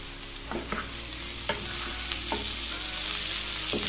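Pork fries in a pan with no oil added, a constant loud sizzle cut by stirring scrapes roughly once a second, close by and without talk.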